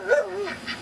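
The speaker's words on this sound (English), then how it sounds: "Don't bark, you bastard." A dog near a pool where ducks are swimming gives a short, high, tonal yelp, one brief call close by that rises and falls in pitch.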